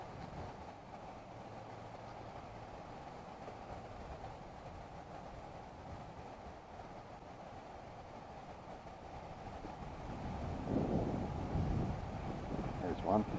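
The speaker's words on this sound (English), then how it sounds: "And here comes the wind." Wind gusts across a microphone while fishing on a lake, a constant low rumbling buffet that swells louder toward the end, with no clear voices over it.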